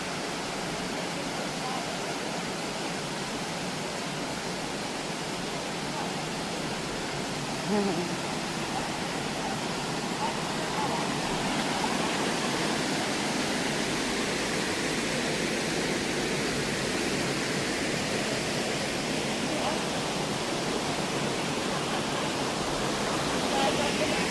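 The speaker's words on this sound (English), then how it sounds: "They got the rush of the waterfall" A waterfall rushes in a steady, broadband roar that stays even and fairly loud for the whole stretch, with no clear voices over it.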